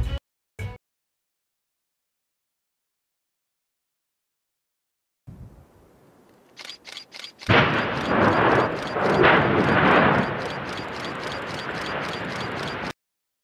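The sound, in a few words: Mount Etna volcano erupting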